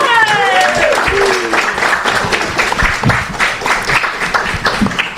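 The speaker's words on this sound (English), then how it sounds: "let's give them a big round of applause" Audience at a trail-running event for women applauds the hosts, a loud, full round of clapping that starts strong and continues steadily, with a brief voice heard at the start.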